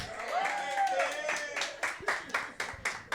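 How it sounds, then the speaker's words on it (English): A comedy show audience breaks into clapping for a comedian, rising into a run of sharp, close claps near the end, with a voice talking over the start. "Start clapping right now."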